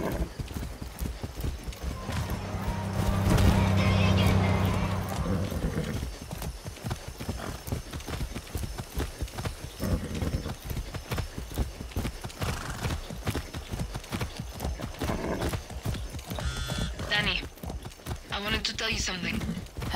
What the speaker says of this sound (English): Come on. That's a good horse.